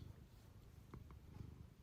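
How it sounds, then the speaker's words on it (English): A cat purrs softly and close up, a low continuous rumbling vibration with a steady rhythmic pulse. "He sits on my lap like that and purrs."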